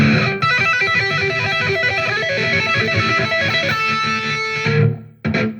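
Rapid distorted electric guitar tapping arpeggios, fast repeating note patterns played loud and continuous, cutting off near the end before a brief final burst.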